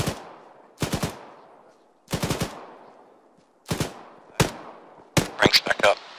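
Gunfire in the military shooter Arma 3: sharp, loud bursts of suppressing fire, each a few rapid shots, repeated at irregular intervals and ending in a denser volley.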